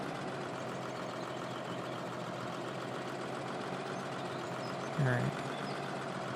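A tractor engine idling in the Farming Simulator 2013 video game, a steady low drone running unchanged throughout, with a short spoken word near the end.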